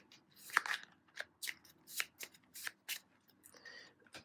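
Arkham Horror encounter deck cards are shuffled by hand on a tabletop, a run of soft riffling bursts and card slaps in an irregular rhythm, close but quiet with no talking.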